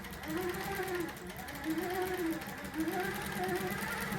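A longarm quilting machine stitches a straight line down a T-shirt quilt, its motor whirring in three even runs of rapid stitching separated by brief pauses. The sound is close and moderately loud.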